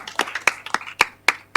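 Audience at a city council meeting clapping in a short burst, a handful of sharp uneven claps close by with no clear cheering voices.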